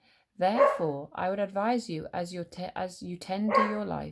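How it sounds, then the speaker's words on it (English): A dog barks and yips in the background of a room while a man reads aloud over it in a steady voice. "Sorry about my dog in the background."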